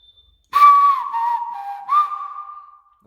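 A person whistles by pressing lips around the teeth as they bite a knuckle, giving a clear, close tonal whistle in two phrases: a rising note that holds and slowly drops, then a second lifted note easing down.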